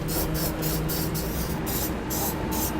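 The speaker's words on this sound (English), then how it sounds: "we'll take some of our spray paint and we'll spray it in there so we don't have to worry about any rust." Aerosol spray paint hissing in steady bursts as it is sprayed into exposed bare-metal holes on a 2013 Nissan Frontier to guard against rust, several short sprays in a row, close and even, with no talk.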